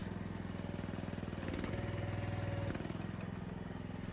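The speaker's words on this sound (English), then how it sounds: "Use your bucket to lift the tracks up off the ground, then use your swing control to pivot the lower frame in 45-ish degree increments." A mini excavator's diesel engine runs steadily at close range with a low, throbbing idle-like drone, rising briefly in load for about a second midway as the machine performs a jump turn, then settling back.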